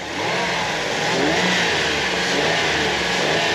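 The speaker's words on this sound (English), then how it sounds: "The engine sounds really good." A car engine, freshly fitted with new spark plugs, plug wires, coil pack and fuel filter, runs steadily and loudly nearby, a constant mid-pitched drone with a slight rise in revs partway through.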